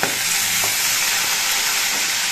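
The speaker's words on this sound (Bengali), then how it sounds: "মাছগুলোর এক পিস কিছুক্ষণ ভাজা হওয়ার পর আমি উল্টে দিচ্ছি।" Fish pieces, sea ritha fish, fry hard in hot oil in a pan as a piece is flipped over, giving a steady close sizzle throughout with a faint clatter near the start.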